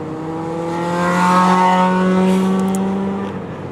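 A car drives along with its engine holding a steady, tonal hum that swells a little in the middle and eases off toward the end, with no talking.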